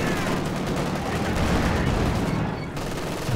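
Machine gun fire in the World War II strategy game Company of Heroes 2, a dense continuous rattle of rapid shots heard loud and close, with battle noise filling the background.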